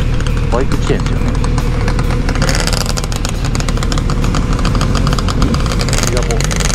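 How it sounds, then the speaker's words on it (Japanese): Several motorcycles idle and rumble close by on a group ride to a dam, a loud steady engine drone with a fairly constant level. People talk over it. The bikes include a Z900RS, RZ250, GSX1100 Katana, CBR1000RR, GPZ900R and a Ducati. "バイク来てんですよ"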